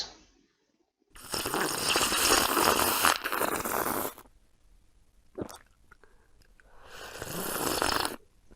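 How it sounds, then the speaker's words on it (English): Two long, breathy slurps of a hot drink, with a brief clink between them, close up and fairly quiet, no voices. "Slurping tea and coffee."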